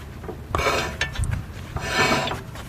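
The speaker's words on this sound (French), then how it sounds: "on voit que ça frotte et il y a même de la limaille du disque qui s'enlève" An oversized front brake disc scrapes against a misaligned caliper on a Rover 216 GTI as the wheel is turned by hand, giving two close rasping grinding passes with light metallic scraping and no talking.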